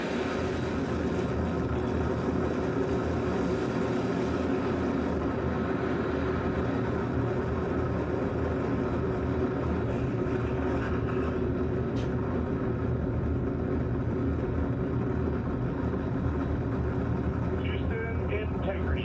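NASA rocket core stage engines igniting at launch, a dense, continuous roar that holds steady and loud throughout, with a faint radio voice briefly on top near the end.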